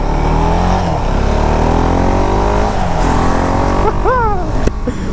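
A 2018 KTM Duke 690 single-cylinder motorcycle pulls in fourth gear with a loud, close, throaty drone that holds steady and then rises, ending with a quick blip of revs and a sharp click.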